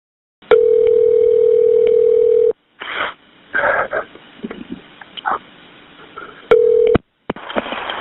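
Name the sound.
telephone tone of a 911 emergency call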